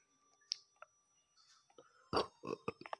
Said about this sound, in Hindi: सॉरी फ्रेंड्स, हमको डकार आई है।